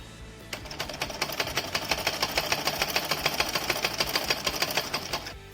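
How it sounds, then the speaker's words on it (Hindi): A sewing machine stitches the side seam of a kurti in a fast, even run of close mechanical clicks, steady and near, starting and stopping cleanly. "अब हम इसमें फिटिंग की सिलाई लगाएंगे"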